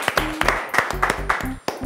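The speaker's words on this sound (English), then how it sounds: "One more last clap." A studio audience on a children's quiz show gives a short burst of sharp, rhythmic claps, about six distinct beats in under two seconds, over bright tonal chimes and music.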